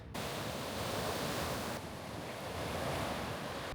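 Ocean waves break at a surf beach, a loud, continuous wash of surf with wind noise, nearby and unbroken, with one brief lull midway.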